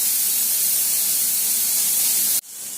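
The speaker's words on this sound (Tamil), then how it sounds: "பொன்னிறமாக ஆகிற வரைக்கும் இது நல்லபடியாக வறுக்கணும்" Chopped onions frying in a pan until golden for a chayote kootu, giving a loud, steady broadband sizzle close up that cuts off abruptly near the end.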